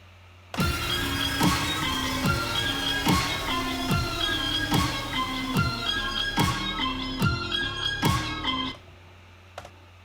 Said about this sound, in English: we're gonna use a proper snare.